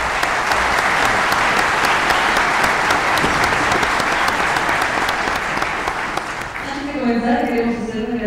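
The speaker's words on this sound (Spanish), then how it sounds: "Fuerte aplauso." A conference audience at a Central Bank event breaks into loud, sustained applause that fades near the end as a voice begins to speak.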